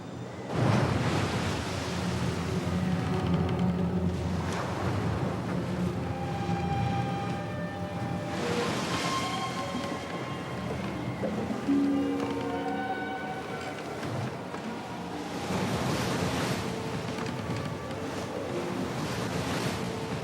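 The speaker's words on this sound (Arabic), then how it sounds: "وهاج البحر من ريح عظيمة تهب." Stormy sea with strong wind, set on a lake crossing at night: continuous roaring surf and wave crashes swelling in repeated surges over a constant windy rush, loud and enveloping, with no voices.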